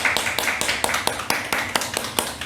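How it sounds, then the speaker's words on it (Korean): A church congregation applauds at a New Year 2023 worship service, many hands striking in a steady, brisk unison rhythm of sharp beats over a dense wash of scattered clapping, fairly loud and close, with no voices. "우리 하나님께 영광의 박수 올려드리도록 하겠습니다."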